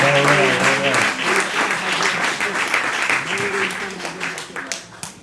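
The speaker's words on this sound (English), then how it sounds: "All right, give me a round of applause." A church congregation breaks into a round of applause, full steady clapping under a speaking voice at the start, tapering slightly toward the end.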